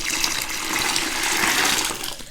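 Water is poured into a concentrated blue primer to dilute it for levelling a small bedroom floor: a brief, steady, splashing gush of liquid, close and fairly loud, tapering at the end.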